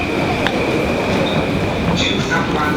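A Tokyo metro train rumbles along the rails near a platform in Akihabara, with a loud continuous roar, a sustained high whine and brief squeals, all close and unbroken.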